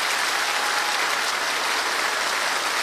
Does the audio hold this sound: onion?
no